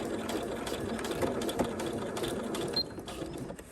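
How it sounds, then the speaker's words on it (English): A sewing machine back stitching along a zipper on a swimsuit, a close, busy mechanical whir with ticking and knocking that carries steadily throughout with no talk. "I'm gonna back stitch here"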